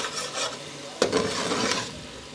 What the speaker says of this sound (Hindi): ये देखें, मसाला भून रही।